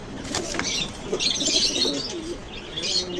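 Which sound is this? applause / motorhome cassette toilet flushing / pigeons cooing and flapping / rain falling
pigeons cooing and flapping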